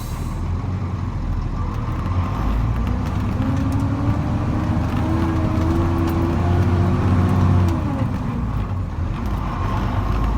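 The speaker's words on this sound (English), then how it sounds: "Comes a couple more cars." Cars passing on a road near Sedona heard from inside a heavy wrecker truck, a steady broad roadway rumble with a gradual swell as vehicles go by, no talk.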